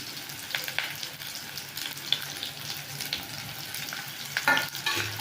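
Chopped onion and curry leaves frying in hot oil in a pan, a continuous sizzle and crackle with occasional stirring scrapes and a few louder spitting bursts, close and alone with no talk.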